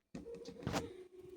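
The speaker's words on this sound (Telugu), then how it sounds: "ఇప్పుడు దీన్ని మెత్తగా మిక్సీ పట్టుకుందాం అండి" An electric mixer grinder spins, grinding biscuits and sugar for an oven-free cake: a short motor whir that starts abruptly, swells with a gritty burst, dips and runs on, fairly close and moderately loud.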